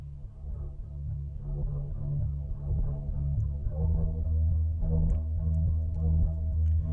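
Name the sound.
guitar beat with compressor applied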